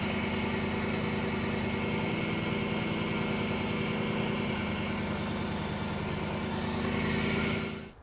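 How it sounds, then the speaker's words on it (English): A BMW E92 M3 engine idles right after an inline fuel filter install, giving a steady, close, even hum that runs unbroken and then cuts off abruptly near the end. "I'm going to go ahead and also start the car and make sure there's no leaks."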